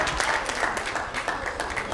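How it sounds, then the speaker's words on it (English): A church congregation, standing throughout the building, claps hands together in praise, a dense, steady round of applause that fills the room for the whole two seconds. "let's give God a mighty hand clap praise."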